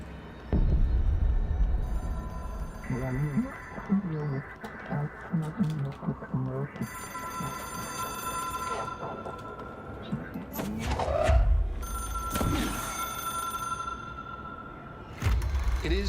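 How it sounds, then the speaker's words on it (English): A phone rings inside the supernatural video game Control, a sustained tonal ringing layered over a dark ambient hum, with a voice talking over it in places. "I hear the phone."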